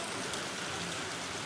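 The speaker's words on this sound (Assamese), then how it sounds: "তো গাইজ চাই আছে ইমান ধাৰাসাৰ বৰষুণ আহি আছে মানে।" Heavy rain pours down outdoors at a Guwahati cultural venue, a dense, even roar of falling water, fairly soft and close, with no voices.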